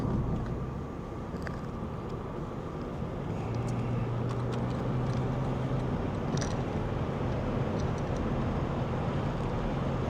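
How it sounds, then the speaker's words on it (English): Wind roars through an open moon roof of a Lexus ES 350 during a late-night drive, a steady broadband rush with low road rumble and faint intermittent ticks, no talking. "If y'all hear a lot of wind noises, because I got my moon roof open."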